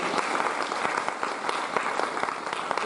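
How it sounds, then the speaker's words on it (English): Audience applause for a student team at a regional pitch competition, a dense, steady clatter of many hands clapping together for about three seconds without a break. "Can we have another round of applause for Ageless Engage?"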